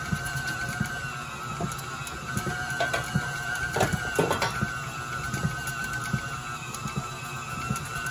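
A KitchenAid stand mixer works heavy sorghum cookie dough, giving a steady motor hum with rhythmic knocking and thumping from the beater as the stiff dough turns, continuous and moderately close.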